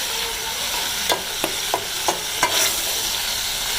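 Chicken keema roasting in masala in a pan, a steady sizzle broken by several sharp scraping stirs of a spoon at a fairly even rhythm, close and moderately loud with no voices.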